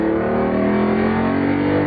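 Lamborghini Diablo V12 engine pulling hard while driving a race circuit out of Lodge hairpin, a loud, close, steady throaty drone that rises slightly in pitch, with no talking.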